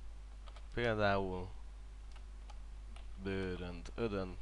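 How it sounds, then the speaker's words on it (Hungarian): Faint, sparse clicks from a computer keyboard, typing stencil text into FlexiSign sign-making software, sit beneath someone speaking Hungarian in the foreground. "A munkalapra kattintva beírom a kivágandó szöveget."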